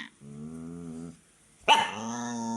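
A dog gives a long, low growl, falls quiet, then lets out a sharp bark that runs straight into another rumbling growl, close and alone at night indoors.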